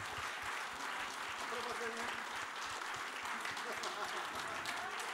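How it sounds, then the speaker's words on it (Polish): Applause from a concert audience while stage crew are thanked, steady clapping throughout with a voice talking over it. "Duże brawa, dziękujemy."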